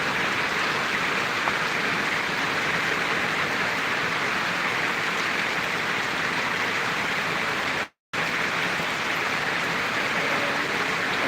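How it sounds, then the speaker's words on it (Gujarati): Heavy downpour falling over farm fields in a village, a dense, loud, unbroken hiss of rain that cuts out for a moment near the end before resuming. "મિત્રો આ વરસાદ એમ તમને બતાવી રહ્યા છે"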